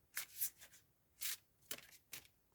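Soft riffling of tarot cards being shuffled, several quick brushing bursts in a row, close and quiet.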